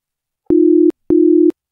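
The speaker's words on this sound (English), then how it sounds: "Hang on, my phone's going." A phone rings with two identical steady electronic tones in a measured on-off pattern, loud and close against silence.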